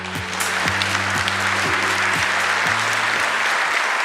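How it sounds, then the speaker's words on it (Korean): Audience applause at a South Korean government briefing where the 100 national policy tasks are presented, as a committee chair is introduced. A dense, steady wash of clapping fills the whole stretch at even loudness, with a faint sustained tone underneath. "큰 박수 부탁드립니다."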